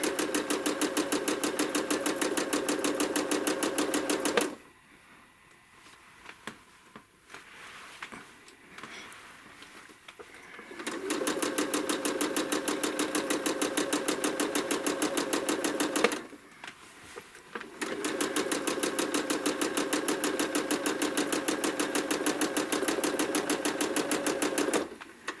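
A sewing machine runs steadily through free-motion quilting of freehand feathers, its rapid needle hum loud and even, cut off by two pauses, one about six seconds and one brief, before resuming at the same pace.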